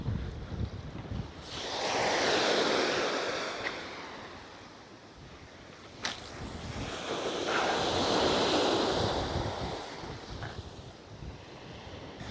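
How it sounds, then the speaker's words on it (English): Strong gusting wind at the seashore while shore fishing, buffeting the microphone in loud rising and falling surges over the wash of waves, with no voices. "Pretty blowy today, it must be said."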